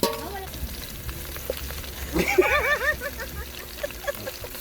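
Chicken sautés in a pan with a continuous sizzle, while voices talk and chatter over it, rising louder in the middle.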